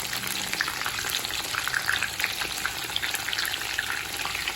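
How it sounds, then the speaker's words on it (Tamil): Meal maker soya chunks deep frying in hot oil over a medium flame, with curry leaves added, sizzling and crackling in a loud, busy stream of tiny pops that carries on without a pause. "நல்லா கிறிஸ்ப் ஆகிற வரைக்கும் பொரிக்கணும்."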